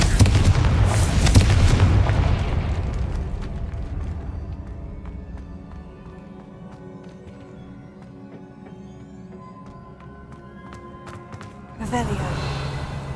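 A Confringo blast spell in Hogwarts Legacy lands as a loud, booming burst that rolls and fades over several seconds into a quieter magical hum, with a voice heard and a second impact near the end.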